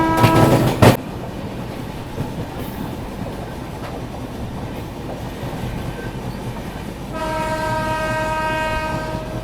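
A train pulls in at Kiul Junction from the Bhagalpur side, opening with a short loud horn blast, then steady rumbling wheel noise and faint clatter, with a high tonal whine rising near the end.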